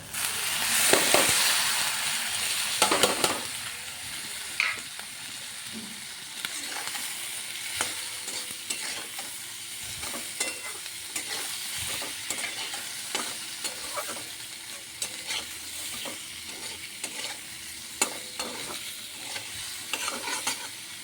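Pabda fish frying in a spiced sauce, a sustained sizzle and bubbling with frequent scraping and stirring clinks, louder at the start and then steady and close.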